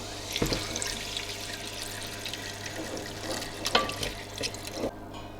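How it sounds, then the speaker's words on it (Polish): Water pours from a tap in a kitchen over chopped vegetables for a cream soup, a steady splashing stream with a few louder drips and clunks near the end. "Zalewamy niewielką ilością wody, przykrywamy i gotujemy do miękkości warzyw."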